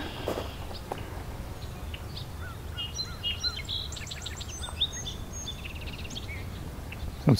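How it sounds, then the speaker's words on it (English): Two song sparrows sing in a Southern Ontario summer field, their bright, buzzy trilled phrases faint and distant over steady low background rumble, with no voices. "So it's two different song sparrows."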